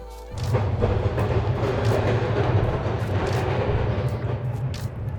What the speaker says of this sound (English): that old heritage tram was going past